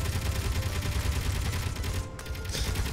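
Dense rapid gunfire rattles continuously and loudly in the Space Engineers video game, with a brief dip in the volley partway through.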